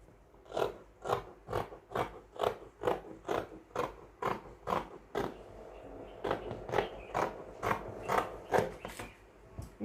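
Scissors cut through fabric for a men's senator outfit in a steady run of about sixteen crisp, evenly spaced chomps, close and fairly loud, with no talking.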